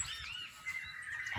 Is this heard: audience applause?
no